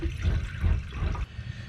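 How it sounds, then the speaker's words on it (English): Water pours into a cooking pot on a wooden boat, a short burst of splashing and gurgling with a pulsing rhythm, close and moderately loud. "So let's get some water in the pot."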